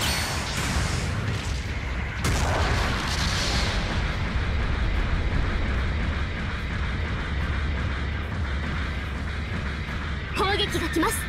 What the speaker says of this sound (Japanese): 砲撃が来ます